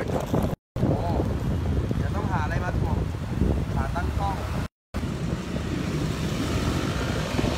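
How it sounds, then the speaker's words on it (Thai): Strong wind buffets a microphone outdoors at a sit-in protest camp on Ratchadamnoen road by the Democracy Monument in Bangkok, a loud continuous rumble with gusts throughout, with speech mixed in and two brief dropouts. "ลมแรง"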